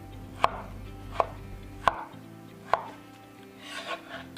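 A knife chops ginger and garlic on a board in four sharp, well-spaced strikes, close and clear, followed by some soft scraping; nobody speaks.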